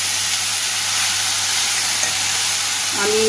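Cabbage and potato samosa filling hisses and sizzles steadily in a hot pan as it is stirred, a loud continuous frying hiss close by with no talking.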